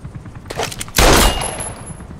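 Gunfire in Metal Gear Solid V: The Phantom Pain, a few faint shots followed by a loud burst of automatic fire near the middle that tails off quickly.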